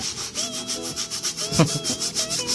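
Brush scrubbing a wetted item worked with a bar of laundry soap, a close, rhythmic back-and-forth rasp of quick repeated strokes with no talking.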